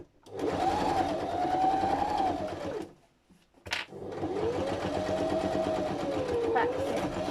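A sewing machine stitching a tote bag runs in two steady whirring bursts separated by a short pause with a click, close and continuous, with no talking over it.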